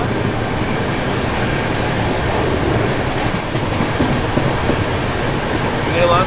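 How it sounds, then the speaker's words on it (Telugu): Heavy rain lashes outside the Uday Double Decker Express as it runs between Visakhapatnam and Guntur, blending with the train's rumble into a loud, unbroken roaring wash. "రంగుడేస్తున్న వర్షం బయట."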